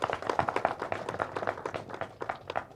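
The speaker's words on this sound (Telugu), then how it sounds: "ఒకసారి గట్టిగా చప్పట్లు కొట్టాలి" Scattered hand clapping from an audience at a Telugu movie teaser launch event for Psycho, a moderate patter of individual claps spread over a few seconds rather than a dense roar.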